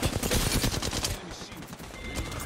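Rapid gunfire in the video game Apex Legends, a burst of sharp, closely spaced automatic shots in the first second followed by scattered further shots and clatter, loud and close.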